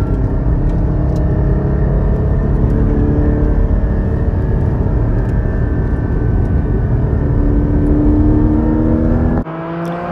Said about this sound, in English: keep your foot planted and just explore the rev range of your favorite road